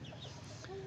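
A rooster on a farm, near a cow and its calf, gives a short cluck against steady outdoor background noise.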